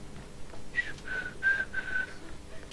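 A person whistles a short tune of a few sustained notes, moderately close, over a faint background hum with no talking.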